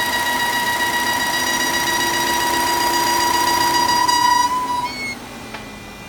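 A Volvo XC60 T5 engine runs steadily at idle, close and loud, with a sustained whine and tonal hum that shifts slightly and drops near the end.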